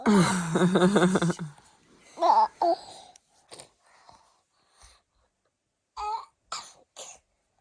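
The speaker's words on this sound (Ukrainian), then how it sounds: "Як ти кашляєш" A young girl coughs and clears her throat during nose rinsing with sea water, a few scattered, moist coughs and small vocal moans separated by quiet pauses, close and fairly faint.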